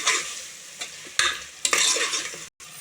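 Homemade chicken curry with turmeric and salt being stirred in a hot pan, a loud close sizzle with a few sharp scraping strokes and a momentary cutoff near the end.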